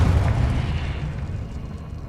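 A Confringo fire spell explodes in the Hogwarts Legacy video game, with a deep, booming blast that rumbles low and then fades steadily.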